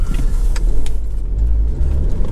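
A Lotus Evora sports car goes by close at hand with a loud, rumbling engine. A few sharp clicks and knocks come through in the first second.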